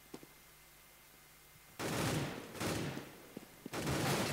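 Counter-Strike match gunfire as a P250 pistol joins the fight: after quiet, two bursts of shots ring out, then a third burst begins, with faint clicks between them.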